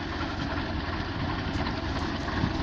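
A tractor engine idles with a steady, dense low rumble at moderate distance, constant throughout the short stretch with no speech.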